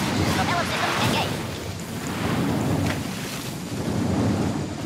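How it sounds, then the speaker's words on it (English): Submarine propellers engage underwater in Red Alert 2, a steady, dense churning wash of water and low rumble that holds at a fairly even loudness throughout, with no voices. "Engines prime. Propeller systems engaged."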